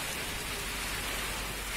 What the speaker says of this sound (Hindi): तेज आंधी और तूफान के साथ ये तेज बारिश हुई है